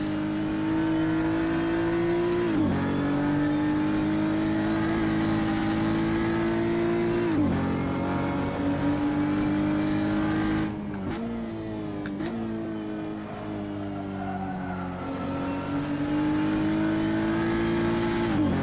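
A race car engine in a racing video game laps the Barbagallo circuit, holding a loud sustained drone that climbs steadily then drops sharply at gear shifts and braking several times, alone without talk.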